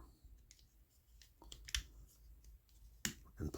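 Sharp plastic clicks as a gun part is plugged back into a Haslab Transformers Ultra Magnus figure, a few separate snaps, quiet and close, with soft handling in between.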